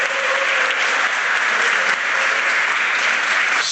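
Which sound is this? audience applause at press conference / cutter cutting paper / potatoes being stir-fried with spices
audience applause at press conference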